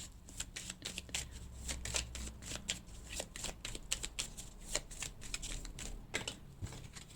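Oracle cards being shuffled: a quick run of crisp riffling and flicking strokes, quiet and close, with no voices.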